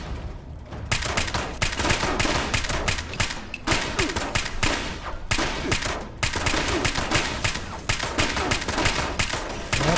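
Rapid bursts of gunfire in Fallout 76, loud and dense with repeated volleys running almost continuously, with brief pauses and a faint voice in between.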